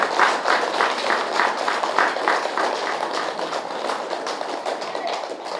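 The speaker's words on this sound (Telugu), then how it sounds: "గట్టిగా చప్పట్లు కొడదాం." A crowd claps at a pyramid inauguration for Parinitha Patri in Sanakuppam: steady, lively applause with a near-rhythmic pulse that gradually softens, and little talk over it.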